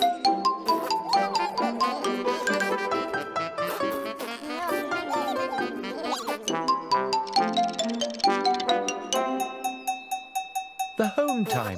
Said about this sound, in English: home time bell